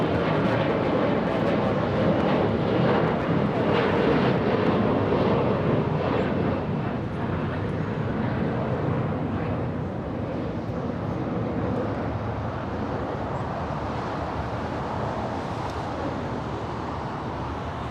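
A SkyWest Embraer E175 regional jet takes off at LAX, bound for Tulsa, producing a loud, steady broadband jet roar that holds through the whole stretch and eases only slightly toward the end.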